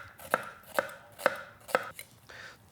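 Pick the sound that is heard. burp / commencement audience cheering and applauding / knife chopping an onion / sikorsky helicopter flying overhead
knife chopping an onion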